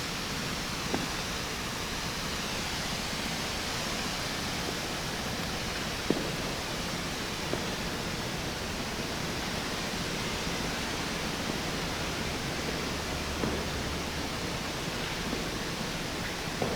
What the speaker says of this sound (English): and I have at it with the sprayer